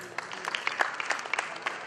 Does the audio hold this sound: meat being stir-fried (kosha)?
no